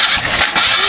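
A conventional car's engine cranking and running during a cylinder compression test, with the tester fitted into the spark plug hole; a loud, steady mechanical roar fills the whole short moment, with no voice.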